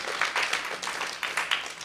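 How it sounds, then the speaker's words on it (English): Brief, fairly soft round of clapping from an audience at a storytelling night, coming in uneven bursts that swell and fade. "So just a big round of applause for everybody"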